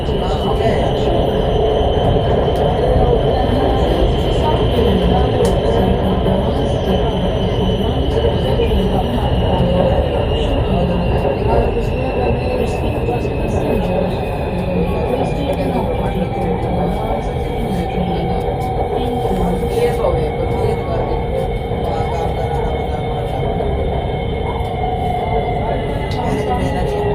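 Steady rumble of a Lahore Orange Line metro train running along the track, with a continuous drone and faint whine throughout; a recorded announcement voice speaks over the ride.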